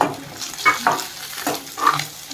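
Egg manchurian tossed with masala in a pan, with a soft sizzle under uneven scraping and stirring strokes from a spoon, close and moderately loud.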